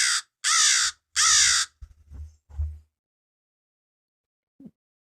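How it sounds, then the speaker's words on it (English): An American crow gives three loud, harsh caws in a row, followed by a few softer, shorter calls and a faint final note. Heard alone and close, with no voices. "This is an American crow sound."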